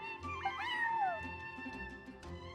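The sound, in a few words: cat meowing in video game Genshin Impact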